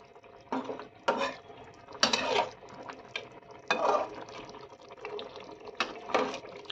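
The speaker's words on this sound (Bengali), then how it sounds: "এবার এখানে অল্প জল দিচ্ছি।" Water splashes into a pan of potatoes and spices for a chicken and potato curry, arriving in several short gushes separated by brief pauses. The sound is close and moderately loud, with no voices.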